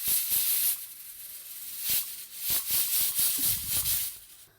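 Pressure cooker venting steam while carrots cook for gajar ka halwa, giving repeated bursts of broadband hissing with short gaps, loud and close, with some faint clatter near the end.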